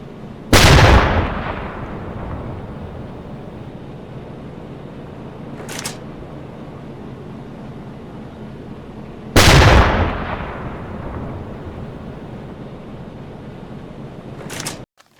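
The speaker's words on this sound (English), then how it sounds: "I'm going to have to take a few shots at him" A U-boat deck gun in a video game fires at a tanker, two heavy booming shots several seconds apart, each with a long rolling decay over a constant low engine and sea rumble.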